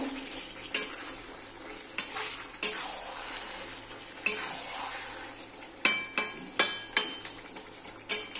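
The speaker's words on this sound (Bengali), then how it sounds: "এবার একটু নেড়ে দেব" Chicken kosha curry with potatoes being stirred in a pan, a soft low sizzle broken by sharp scrapes and clinks of a metal spatula against the pan, irregular at first and then coming in quicker bursts, no talking.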